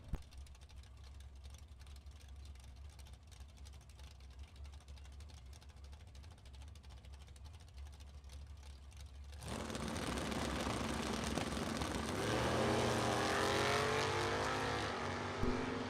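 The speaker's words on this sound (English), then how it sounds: "Two Novas side by side, wheel to wheel at the stripe." Two 1972 Chevrolet Nova drag cars race side by side at a bracket nationals drag strip. A low distant idle gives way to a sudden loud engine roar that swells and holds as they launch and run.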